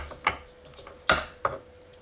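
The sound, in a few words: shuffling tarot cards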